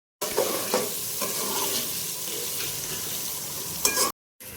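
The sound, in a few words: tomatoes cooking in a pan for chicken pulao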